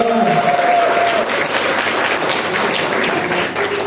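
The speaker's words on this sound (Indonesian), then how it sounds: "Tepuk tangan." Applause from residents at a neighborhood youth organization meeting during an election vote count, a steady, dense wash of many hands clapping that holds for several seconds with a brief voice near the start.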